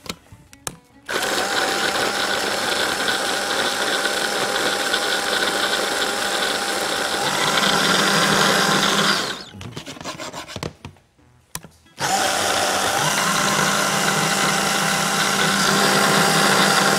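An electric food processor chops garlic with a loud, close, steady whirring grind, stops briefly, buzzes in short bursts, then resumes its continuous run.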